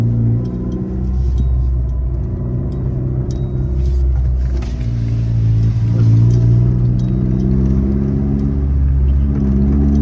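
A Chevrolet Sonic rolls in first gear, its engine a steady low drone with faint metallic ticking from a worn axle audible over the rumble.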